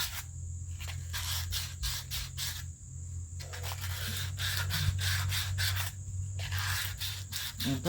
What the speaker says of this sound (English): I suggest that you use fine grit sandpaper.